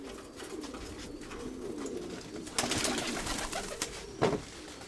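Domestic pigeons coo in a loft, a steady low murmur of overlapping calls with a few louder bursts and wing flutters near the end.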